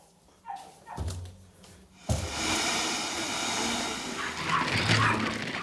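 A freshly groomed show dog at an animal expo gives a few sharp barks, followed by a dense, steady wash of background noise.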